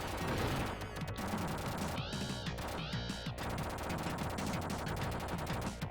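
Rapid bursts of gunfire in a Sega Genesis shooting gallery arcade game, loud and continuous over six seconds with dense repeated shots and bright electronic game tones layered throughout.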